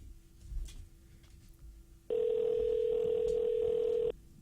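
A telephone call rings unanswered as a single loud, steady electronic tone that lasts about two seconds over a faint background hum.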